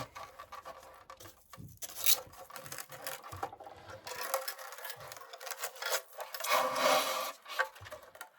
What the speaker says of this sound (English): I'm sorry about the noise, but it is going to be some styrofoam.